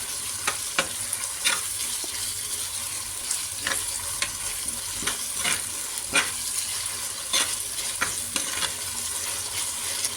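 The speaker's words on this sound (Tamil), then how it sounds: "இப்போ இஞ்சி பூண்டு பேஸ்ட் போடணும். அதையும் சேர்த்து நல்லா வதக்கணும்." Ginger garlic paste sautéing in a clay pot gives a continuous close sizzle, punctuated by frequent light scraping and tapping stirs at an uneven rhythm throughout.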